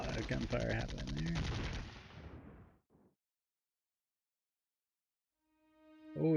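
A loud, rapid burst of automatic fire in the Cold War wargame Flashpoint Campaigns rattles for about two seconds, then fades into silence before a tonal game sound swells at the end.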